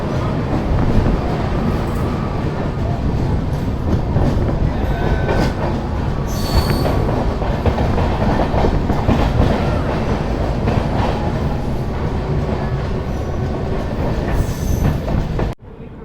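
Jan Shatabdi Express passenger train pulling out of a station on the Banaras to Patna route, with a steady loud rumble of wheels and wagons, rhythmic clickety-clack and occasional wheel squeal, continuous and close throughout.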